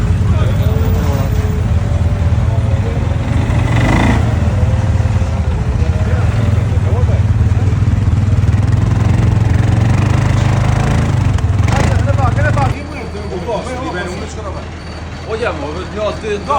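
ATV engines run on a snowy hill road in North Macedonia, a loud, close, continuous droning rumble that drops to a lower, rougher level near the end.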